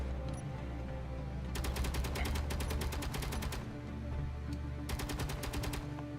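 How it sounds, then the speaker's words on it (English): Automatic gunfire in the space game Space Engineers, two rapid bursts of evenly spaced shots over a steady low mechanical hum, moderately loud. "What are you shooting, sir?"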